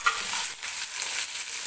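Onion, curry leaves and green chili, with a pinch of cumin, sizzle in hot oil in a kitchen pan while being stirred, giving a steady, close crackling hiss with no talking.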